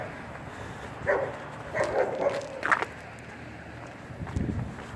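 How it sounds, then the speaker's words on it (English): A dog barks a few times at a distance, short muffled woofs spread over several seconds against faint outdoor background noise. "Dog."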